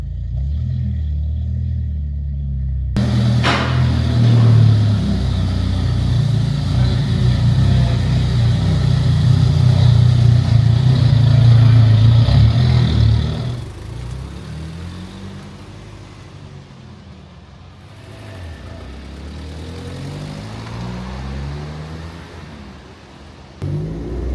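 An old Fiat Punto GT Turbo being driven, its engine droning loud and steady for about ten seconds before easing to a lower, quieter rumble as it slows, with a sharp knock near the end.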